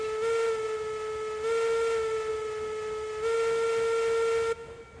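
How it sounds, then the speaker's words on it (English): A steam locomotive whistle from the game Railroads Online blows one long, steady, pure-toned blast with rich harmonics, sustained for about four and a half seconds before cutting off abruptly. "Whistle sounds great, if nothing else."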